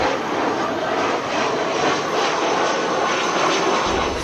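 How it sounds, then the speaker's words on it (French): Brussels Airlines passenger jet landing on a runway at Kinshasa, a loud, steady broadband engine roar that holds throughout with no voices over it. "l'avion de la compagnie Bruxelles Airlines, avec à son bord Augustin Kabouya, venait de se poser sur la piste"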